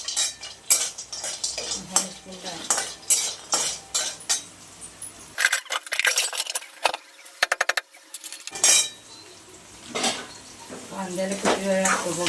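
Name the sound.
onions frying and being stirred in a pan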